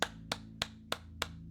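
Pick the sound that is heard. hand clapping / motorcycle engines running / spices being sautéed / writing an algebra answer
hand clapping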